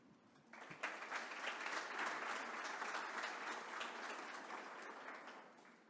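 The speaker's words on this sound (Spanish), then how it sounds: "Recibimos con un fuerte aplauso al señor Víctor Rico." After a brief quiet moment, a crowd at an Andean Community anniversary ceremony bursts into steady, sustained applause that holds strong and slowly tapers toward the end.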